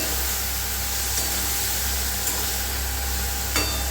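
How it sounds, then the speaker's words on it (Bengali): Mushrooms fry in white oil seasoned with pepper and salt, giving a steady, even sizzle and hiss with no break. "গোলমরিচ আর নুন দিয়ে আমি এখানে মাশরুমগুলো ভেজে নিচ্ছি সাদা তেলে।"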